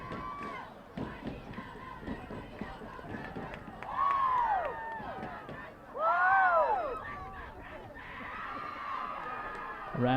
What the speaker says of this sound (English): Raptor fans, the answering cheer